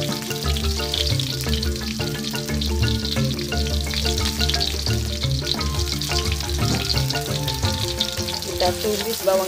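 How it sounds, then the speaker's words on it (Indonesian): Shallots and onion sauté in a frying pan with a steady, close sizzle and occasional stirring, set against a continuous tonal musical bed throughout. "Kita tumis bawang selir, bawang bombaynya sobat."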